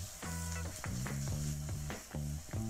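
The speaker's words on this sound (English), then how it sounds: "You need to deep fry it. Okay, good, good. He's frying it." Japanese silken tofu deep frying in hot oil, a steady sizzle broken by repeated stirring and clinking of a utensil against the pot, close and fairly quiet.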